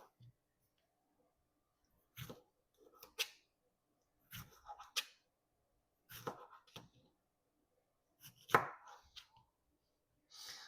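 A knife cutting tomatoes into chunky slices on a board, sharp isolated chops arriving in small clusters of two or three with quiet gaps between, close and crisp, with a voice speaking softly in between.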